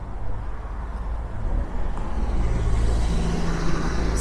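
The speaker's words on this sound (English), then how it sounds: "Excuse the traffic, this is a busy little road." Traffic on a busy road near a demolition site in Blackpool rumbles past, a broad, low roar that swells and ebbs as vehicles go by, fairly loud and close.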